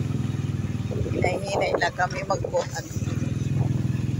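A motorcycle engine idles and revs with a steady low drone, heard close as a rider starts moving slowly; a voice talks over it midway.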